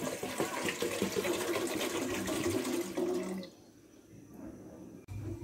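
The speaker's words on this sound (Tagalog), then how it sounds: "Yan, tubig." Water pouring steadily into a cooking pot for about three seconds, a continuous splashing rush that then drops away to quiet room tone, ending with a sharp knock.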